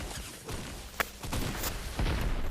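Sharp gunshots ring out in a shooter video game, a couple of distinct cracks over a busy, muffled background, moderately quiet.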